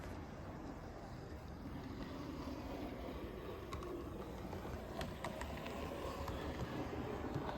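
A Rapido Trains 15XX model locomotive in NCB maroon running along its track, a faint, steady motor whir with light clicks from the rails.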